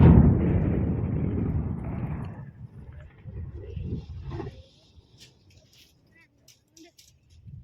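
A loud, deep blast of rock being exploded booms at the start and rumbles away over several seconds, leaving faint distant noises behind.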